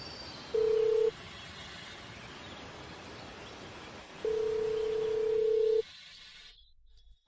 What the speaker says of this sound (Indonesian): HP ini terus bunyi.